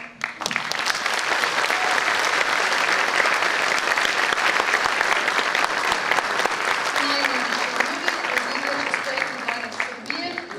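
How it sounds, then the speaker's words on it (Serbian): An audience at a folk dance ensemble's annual concert bursts into loud, sustained applause for young folklore school dancers, a dense wash of clapping that holds steady for about ten seconds before tapering slightly. "Molim vas da pozdravite gromkim aplauzom igrača škole folklora."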